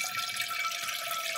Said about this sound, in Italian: Togliamo un po' d'acqua.